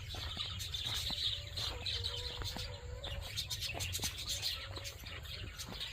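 Caged birds and chickens at an adventure camp in Jamdoba village, Bankura, give faint scattered chirps and tweets over a steady low background hum, with no one talking.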